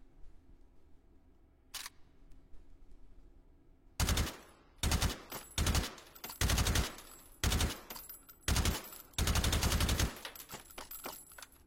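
Rifle fire at a target range in a video game, a faint lone shot followed by rapid bursts of loud automatic gunfire in short, evenly spaced volleys.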